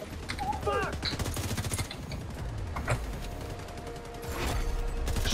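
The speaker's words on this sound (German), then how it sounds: "Wir schießen sehr viel." Rapid game gunfire from The Division 2, dense bursts and crackling shots under a busy mix, with voices talking throughout.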